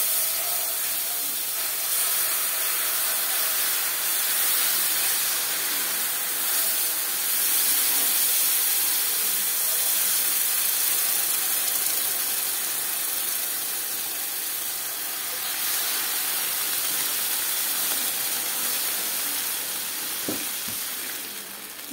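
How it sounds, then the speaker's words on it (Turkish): Water is poured onto hot toasted semolina for ice-cream semolina halva, giving a long, steady hiss and sizzle of steam that barely fades over time, with no talking. "3 su bardağı da suyumuz var."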